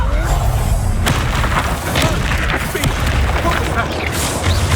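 Bombarda spell explosions in the video game Hogwarts Legacy: heavy booming blasts and crashing debris fill the clip continuously, loud and dense amid combat effects and some voices.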